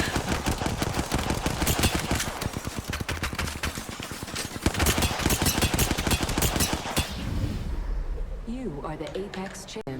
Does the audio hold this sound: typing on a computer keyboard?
no